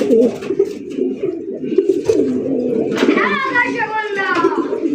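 Fancy Raj Golla pigeons, big-sized breeding pairs, coo and burble in a low steady stream from start to finish, with a brief higher call near the end and someone talking over them throughout.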